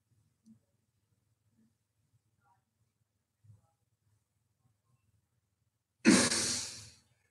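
A single passive exhale breath demonstrated up close, one soft breathy rush near the end after a quiet stretch with a couple of faint clicks.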